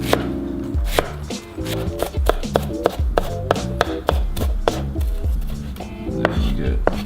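A kitchen knife chops an onion into fine brunoise on a board, with sharp close knocks in an uneven rapid rhythm running throughout, some strokes louder than others.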